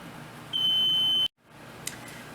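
A Doyon Trio ventless rotating pizza oven control gives one steady, shrill electronic beep lasting under a second, followed by a sharp cutoff and then a faint click against low kitchen hum.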